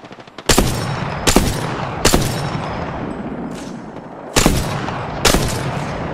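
Gunfire in an Apex Legends firefight, a handful of loud, sharp shots spaced irregularly over a steady roaring background, close and punchy with no talking.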